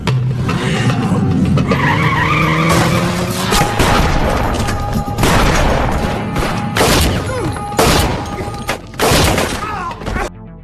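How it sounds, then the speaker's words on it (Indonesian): A car in an action film speeds up hard and slams into a wall, with screeching tires, a roaring engine and loud sharp crash bangs over a dense, busy mix. "Gloria langsung tancap gas hingga menabrak dinding sampai ia tak sadarkan diri"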